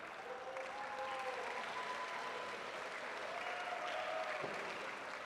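Steady applause from a crowd at a university volleyball match, honoring a family, continuous and somewhat distant, with a faint hum underneath throughout.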